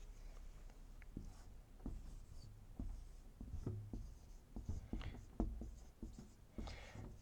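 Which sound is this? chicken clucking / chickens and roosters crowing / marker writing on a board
marker writing on a board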